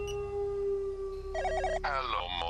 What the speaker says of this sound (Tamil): ஏய், ஒரு நிமிஷம் அப்படி ஃபோன் அடிக்கிட்டு.